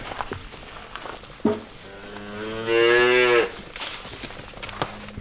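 A cow moos once, loud and close, a drawn-out bellow lasting a couple of seconds amid quiet rustling.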